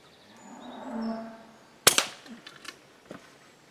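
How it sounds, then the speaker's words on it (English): A single sharp crack as an air rifle pellet, fired from a legal-limit rifle, punches through and strikes a metal squirrel feeder, followed by a few quick metallic rattles and faint birdsong outdoors. "Still quite an impressive impact as the pellet goes through and hits the feeder."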